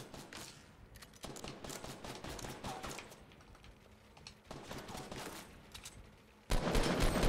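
Gunfire in the Fortnite battle royale, rapid bursts of shots coming in uneven clusters over several seconds, moderately loud with game ambience between volleys and a louder burst at the end.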